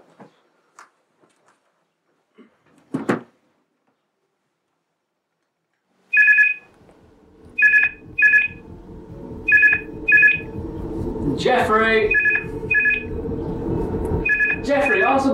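A telephone rings in repeated short double bursts, loud and close, after a few faint knocks and a brief thud, and some other clattering and room noise join toward the end.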